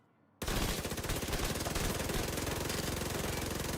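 Sustained SMG fire in The Division 2 shooter game. Fast, loud, continuous automatic shots start abruptly after a short quiet moment and carry on to the end without a break.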